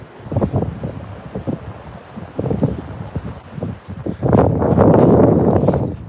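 Strong wind gusts buffet the microphone on a sandy beach with dunes, rumbling and rushing in bursts that swell into a sustained heavy roar toward the end.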